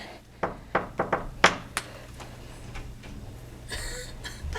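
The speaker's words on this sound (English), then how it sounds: "Just knock on the door." Knuckles rap on a door indoors: a quick series of sharp, close knocks in an uneven rhythm, then softer taps and faint rustling as the knocking trails off.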